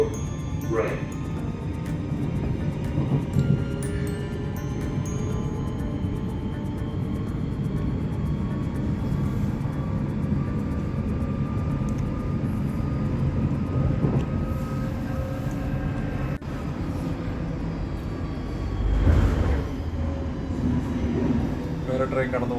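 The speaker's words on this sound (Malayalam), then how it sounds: "വേറെ ട്രെയിൻ കടന്നു പോകുന്നുണ്ട് അപ്പുറത്തോടെ." Another train rumbling past on the adjacent track, heard from inside a moving train as a long, steady roar that swells near the end, with people talking over it.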